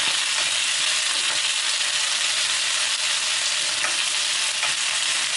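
Chicken pieces fry and brown in a pan, giving a loud, continuous hissing sizzle that stays constant and close throughout, with no voices present.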